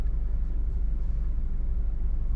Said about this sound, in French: si on entend le tonnerre